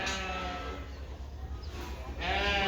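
A sheep at a fairground livestock show gives bleats, the first at the start and another rising near the end, close and fairly loud over steady background hall noise.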